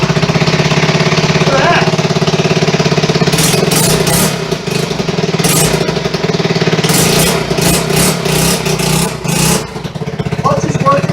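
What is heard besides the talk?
1974 XR75 motorcycle engine starting and running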